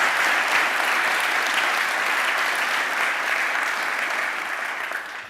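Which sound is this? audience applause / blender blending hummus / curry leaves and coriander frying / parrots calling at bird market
audience applause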